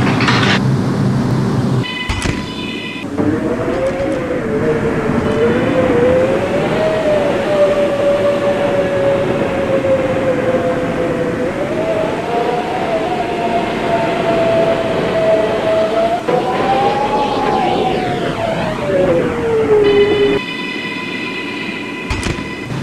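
A Coney Island bound M subway train of the R211 type in a Roblox game runs steadily with a loud rumble and a rising and falling motor whine, with short electronic chimes near the start and end.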